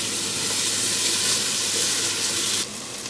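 Onion, garlic and seeded ají amarillo hit a hot pot for a Peruvian crab parihuela, giving a steady loud hiss and sizzle that holds evenly before dropping to a softer simmer near the end.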